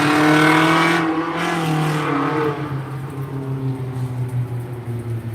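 A car with a loud aftermarket muffler roars close by, its engine note dropping and fading as it passes and leaves steady rumbling behind, with no talking.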